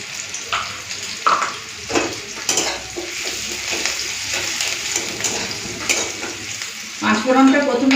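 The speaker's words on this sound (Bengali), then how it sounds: "পাঁচফোড়নটা প্রথমে দিলাম না, পুড়ে যেত, তাই জন্যই পরে দিলাম। এই পেঁয়াজের সাথে ভাজা হয়ে যাবে, ভালো লাগবে।" Panch phoron spices fry with onions in hot oil, making a loud, continuous sizzle broken by repeated scrapes and clinks of a stirring spoon against the pan, and a sharper burst near the end.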